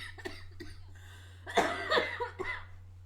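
A person coughs repeatedly at close range, a few light coughs at first and then a louder cluster of harsh, rough bursts, with no talking over them.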